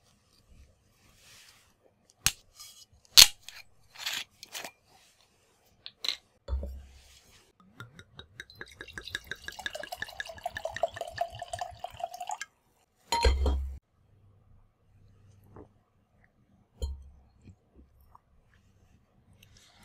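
A glass of Malbec wine being opened and poured indoors: scattered clinks and knocks, then a gurgling pour of several seconds, followed by a few more glass taps, all faint and close with no talking.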